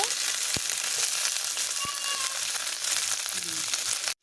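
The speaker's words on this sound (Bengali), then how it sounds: "ভেন্ডিগুলো হালকা ভেজে নেব।" Okra lightly frying in a pan gives a steady, close sizzle that runs the whole time, with a couple of sharp clicks from stirring.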